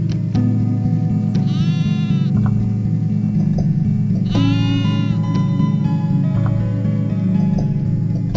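Sheep and lambs on a pasture farm bleating twice, with two distinct wavering cries a few seconds apart over a constant low rumble of background noise.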